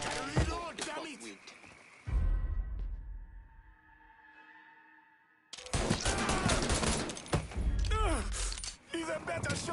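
Gunfire in the crime action game Mafia III, loud bursts of shots mixed with shouting voices at the start and again after a quiet gap with a faint ringing tone.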